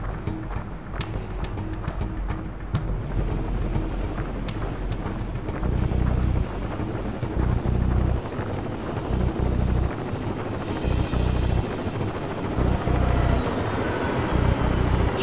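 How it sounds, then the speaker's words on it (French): A helicopter arriving in the video game Rainbow Six Vegas, its rotor thumping as a steady rapid chop that grows louder and nearer, joined by a rising high-pitched turbine whine. "Allez, envoie-moi un hélico, là."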